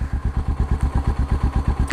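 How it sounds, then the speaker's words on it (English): A Triumph Street Scrambler 900's exhaust idles up close, thumping in an even, rapid pulse of loud beats that runs for about two seconds, with no speech. "cutting a bit of the Triumph exhaust sound video"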